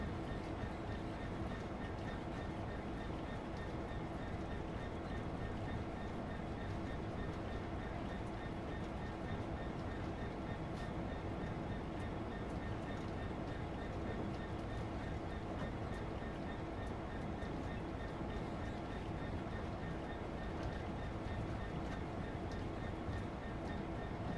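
In Train Sim World 2, a passenger train rolls along with a continuous, even rumble of wheels and running gear. It sounds steady and fairly faint for the whole stretch.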